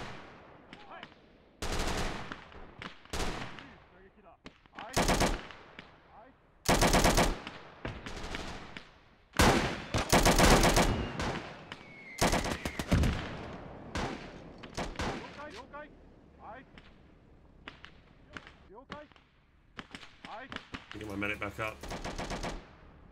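Machine gun fire from the Call to Arms: Gates of Hell Valor mod battle between Japanese and US forces. Loud bursts of automatic gunfire and single shots come in clusters over about twenty seconds, with voices and battlefield noise in between.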